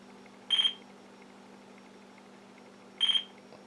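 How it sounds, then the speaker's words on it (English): A FlySky receiver beeps while binding to a Nirvana transmitter, giving two short, bright bursts of rapid pulsed beeps about 2.5 seconds apart over a steady low electrical hum. "as soon as you click bind, it will start to beep."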